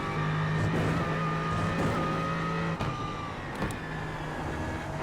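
An Aston Martin Vantage GT3 EVO race car in iRacing at Watkins Glen, its engine droning steadily at high revs, then shifting pitch with sharp gear changes and brief lifts mid-run.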